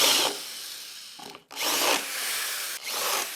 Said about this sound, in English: A countersink will just cut those edges off.